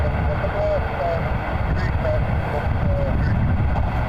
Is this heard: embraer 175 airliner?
yes